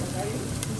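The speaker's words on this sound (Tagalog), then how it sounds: "gisan natin yung sibuyas natin" Onions sautéing in a pan for a home-cooked biryani, giving a steady, close sizzling hiss throughout with soft stirring noise.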